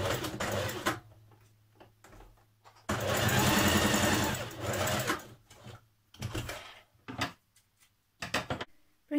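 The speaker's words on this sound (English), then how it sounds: "Stitch your underarm seam." Sewing machine stitching the underarm seam of a New Look 6574 dress, several bursts of rapid mechanical whirring separated by pauses, close and fairly loud.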